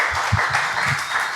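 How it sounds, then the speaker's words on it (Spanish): An audience claps for the singer Bela, a steady dense round of applause at moderate volume with a few louder claps close by and no talking. "Un aplauso para Bela, por favor,"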